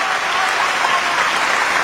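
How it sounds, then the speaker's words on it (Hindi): Audience applause at a poetry recital (mushaira) in Karachi, a steady dense clapping from a crowd filling the whole short stretch without pause. "भाई तालियां कम थी"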